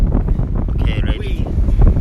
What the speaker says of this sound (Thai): ลมแรง พายุเฮอริเคนมันกำลังมาทางนี้แหละ